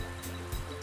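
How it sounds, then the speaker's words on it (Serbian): Water of a cold mountain stream in an animated countryside scene, a steady broadband rush and babble with a low rumble, continuous and fairly close, no voices. "Potok."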